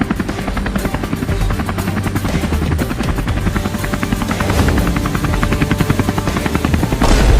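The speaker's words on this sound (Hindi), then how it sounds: "हम इतने बड़े हेलीकॉप्टर से उड़ रहे हैं" A large cartoon helicopter flies with a loud, steady, rapid rotor chop and engine drone that holds continuously throughout, with no talk over it.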